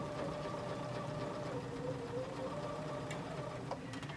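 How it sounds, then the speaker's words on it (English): A sewing machine fitted with a zipper foot runs continuously at an even pace, a soft, steady mechanical hum and patter with no pauses. "going to drop my zipper foot into position, and I'm going to start from the very beginning."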